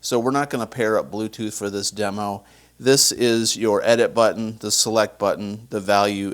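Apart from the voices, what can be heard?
No distinct noise like a dog, phone or traffic.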